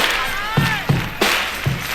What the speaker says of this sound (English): Now clap your hands at what he's doing.